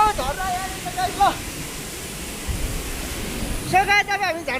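Thado Khola waterfall in Nepal pours as a steady, broad roar of rushing water, close and continuous, while people talk over it at the start and end.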